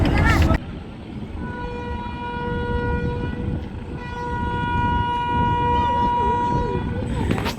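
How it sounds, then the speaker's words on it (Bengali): The passenger launch Rajdoot Prime sounds a long, steady horn blast at a river ghat at Indirhat, loud and sustained for several seconds, with a crowd murmuring and a brief voice at the start. "বারবার হর্ন দিয়ে কিন্তু জানান দিচ্ছে যে যারা যারা আসেন ঢাকা যাওয়ার আশেপাশে দ্রুত চলে আসুন"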